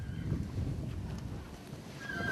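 A horse close by, heard as soft clip-clop hoof sounds and a faint whinny over a low outdoor rumble and light wind.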